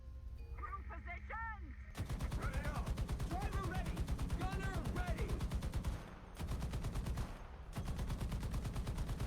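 Aircraft machine guns fire in the Firebirds video game as a dense, rapid Gatling-style stream of shots. The bursts are loud and continuous, break off briefly near the middle, and run over background game sound.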